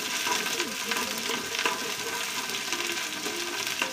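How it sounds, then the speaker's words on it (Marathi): Onion frying in oil in a pan for a spicy chicken curry, giving a steady, close sizzle with light stirring clatter throughout and no voices. "त्यामध्ये ना तेल टाकलं आहे आणि कांदा टाकते"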